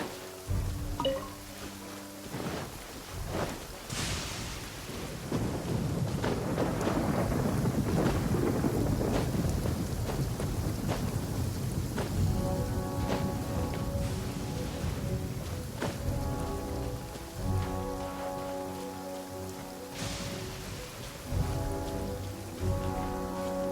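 Rain pouring steadily in a video game, a dense hiss of falling water with deep thunder rumbles swelling in the middle, while soft game music tones drift over it; no talk.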